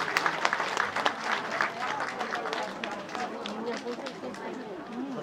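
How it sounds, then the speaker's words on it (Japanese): Audience applauds a Higashi geiko dance at the 2020 Setsubun festival at Utasu Shrine in Kanazawa; brisk clapping peaks early and thins out, with crowd murmur and a voice talking underneath. "盛大な拍手でお送りください。"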